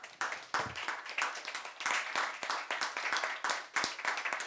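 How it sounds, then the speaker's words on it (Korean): A church congregation claps together in praise during a worship service, a steady, moderately loud patter of many hands with sharp individual claps standing out, no voices over it. "우리 이 시간 영광의 박수 올려드리기를"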